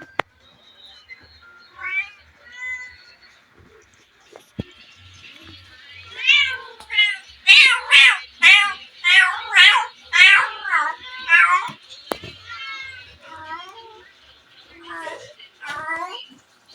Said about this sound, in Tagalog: Wawa yung pusa pag na-inhit.